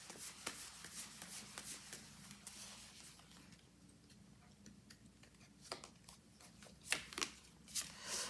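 Oracle cards are shuffled close by, producing a quiet, continuous riffling patter of soft ticks and flicks with a few sharper snaps toward the end.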